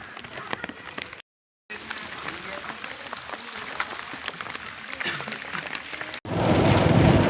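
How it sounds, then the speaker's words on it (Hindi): Heavy rain falls on a village in a steady, dense hiss that pauses briefly twice and grows louder near the end. "और पानी बहुत ज़्यादा गिर रहा है"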